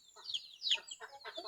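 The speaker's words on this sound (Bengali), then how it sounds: "দেখুন আমার দেশি মুরগির বাচ্চাগুলি কতটা চঞ্চল" Native chicken chicks in a new cage, a close cluster of bright, high chirping peeps in quick, lively bursts, faint and without talk.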